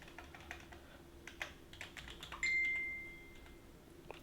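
Rapid keystrokes clatter on a computer keyboard as a new folder name is typed, close and crisp, followed by a brief high electronic tone partway through.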